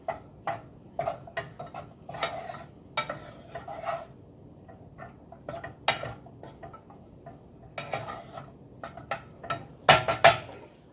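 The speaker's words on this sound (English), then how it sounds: "And stir the noodles and the butter together." Noodles stirred with butter in a pot make irregular scraping and clinking strokes, close and quick, with short busy bursts separated by quieter gaps and a louder flurry near the end.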